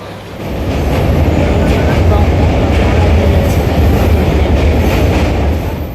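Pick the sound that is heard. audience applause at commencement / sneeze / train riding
train riding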